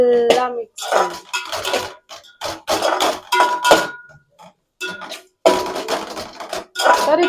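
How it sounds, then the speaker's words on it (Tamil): Ginger and garlic being stirred in a pan, heard as intermittent metallic scraping and clinks of a spoon against cookware in short bursts separated by brief pauses. "இஞ்சி பூண்டை நல்லா மிக்ஸ் பண்ணி"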